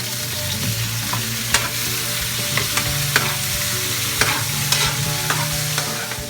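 Pork sizzles steadily in a hot pan while cooking pinakbet, a continuous frying hiss broken by several sharp clacks of a utensil stirring the meat against the pan; no one speaks.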